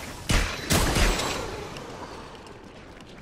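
Two heavy blasts of gunfire in the PSVR shooter Farpoint land close together, each rolling into a long reverberating decay with no talk over it.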